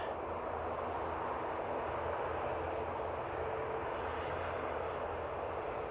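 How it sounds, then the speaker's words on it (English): A Jet2 Airbus A321neo jet airliner at Manchester Airport, a steady broadband roar that holds loud and even throughout, close and continuous with no talking over it. "Jet 2, A321. It's the Neo variant,"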